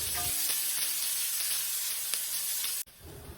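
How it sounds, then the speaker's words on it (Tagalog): Garlic and onion sautéing in hot oil in a pan, a loud continuous hissing sizzle with faint stirring taps, cutting off abruptly near the end to quieter background. "nagisa na ako ng bawang at sibuyas"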